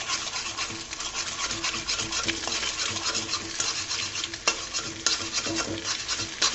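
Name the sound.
scrambling eggs in a frying pan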